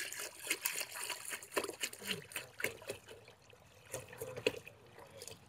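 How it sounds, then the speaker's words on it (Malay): Water trickles and splashes as it is poured into a container to mix fertilizer for a fertigation pump, an irregular, close liquid sound running for several seconds with no talk. "Kita tuang lagi air, bagi penuh sikit bekas ni supaya senang kita kacau."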